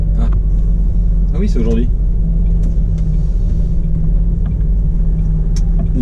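A truck's engine rumbles steadily and loudly while it drives on the road heading to a depot, with a short spoken exchange partway through.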